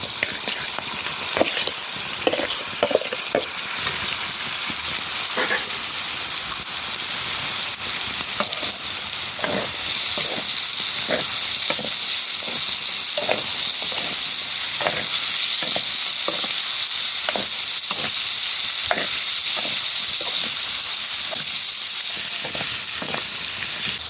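Chili and tomato hit a hot frying pan of oil, giving a steady loud sizzle with repeated sharp scraping stir strokes in an uneven rhythm throughout.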